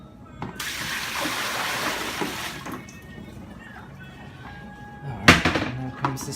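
Tap water runs steadily while napa cabbage leaves are rinsed for kimchi. A loud gush lasts a couple of seconds, then fades to quieter trickling and handling noises, with a sharp clatter near the end.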